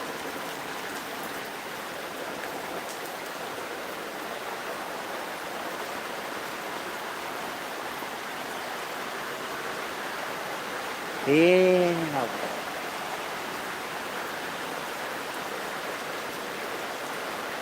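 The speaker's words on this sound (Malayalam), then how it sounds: "മഴ അപ്രതീക്ഷിതമായിട്ടുള്ള മഴ" Heavy afternoon rain falls in a constant hiss at an even level, and a short spoken exclamation cuts in near the end before the rain carries on alone.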